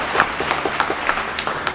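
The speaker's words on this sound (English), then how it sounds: "Round of applause, 39 years." An audience at a coaching seminar in India breaks into a brief round of applause, many quick overlapping claps at moderate volume with no talking.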